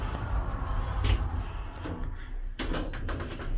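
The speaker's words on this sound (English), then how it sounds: "Doors closing." Lift doors sliding shut in a Concept lift at Zetland, Middlesbrough, a short mechanical clunk and thud heard close by over a steady low machinery hum.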